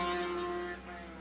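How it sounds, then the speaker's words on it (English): Superbike engine during a USBK race at Bishopscourt, a steady loud mechanical drone with strong harmonics whose pitch rises briefly on a gear change, then settles back down, continuous with no talk. "you can hear the revs go up ever so slightly and just drop back down again"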